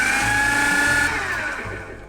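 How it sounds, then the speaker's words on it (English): A kitchen blender whirs loudly as it purées spinach and asparagus into a vegan dip, a steady high motor whine that drops in pitch and fades as it winds down near the end. "Now you wanna blend this until it's relatively smooth"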